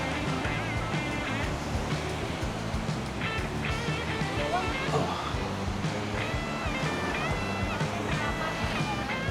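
Waves wash onto the narrow sandy shore at Pantai Pacar beach in Tulungagung, a continuous, moderately distant surf rush heard under voices talking throughout.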